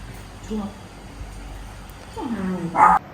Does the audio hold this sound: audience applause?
no